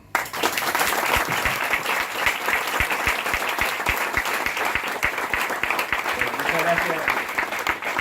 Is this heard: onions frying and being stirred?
no